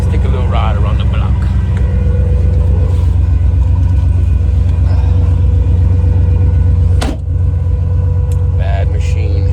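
A car drives around the block from a newly running dyno shop, a steady loud low engine rumble and road drone throughout, heard from inside the vehicle with a brief dip near the end.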